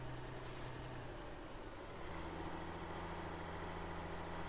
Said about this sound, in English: I might need to be braking going down here